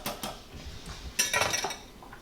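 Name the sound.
lid placed on a cooking pot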